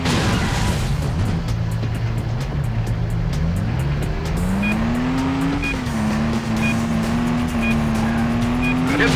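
Car tires squealing through a 180-degree handbrake turn in the Stuntman driving game, a long rising screech over a steady, loud engine roar that continues throughout.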